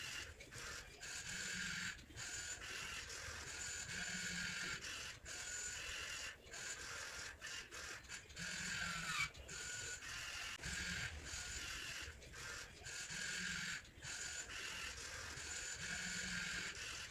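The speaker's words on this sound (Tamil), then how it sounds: "நம்ம சீவ் அனலைசர் இந்த கிறிஸ்டல்ஸ் எப்படி செப்பரேட் பண்ணாதுன்னு வாங்க பார்க்கலாம்." A laboratory sieve analyser runs steadily to separate crystals by size, giving a continuous mechanical hum and rattle broken by regular short clicks and pauses.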